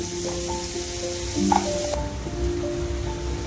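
Tomatoes frying in a pan for bottle gourd curry, giving a steady, close, even sizzle that continues throughout, with faint thin tones in the background.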